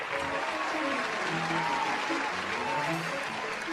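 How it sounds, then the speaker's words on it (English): An audience claps in sustained, moderately distant applause, a dense even patter that holds steady for the whole stretch. "a round of applause for Mr. Ryan Grepper, everybody."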